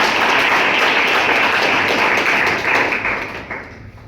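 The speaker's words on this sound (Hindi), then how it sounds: "अपने लिए जोरदार तालियां बजाइए" A hall audience at a motivational session for civil service aspirants claps loudly for themselves, a thick roar of applause that thins out and trails off in the last second.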